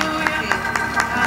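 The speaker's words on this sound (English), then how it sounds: "Let's clap our hands and give God praise" A church congregation clapping hands in praise, a steady rhythmic beat of unison claps roughly four per second over a sustained background of music or voices.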